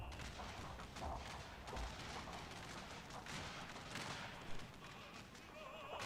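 Musket volleys and artillery booms crackle in a Total War battle of a Dutch invasion of Korea, a dense, distant din of gunfire with scattered louder shots and faint horse whinnies, no talking.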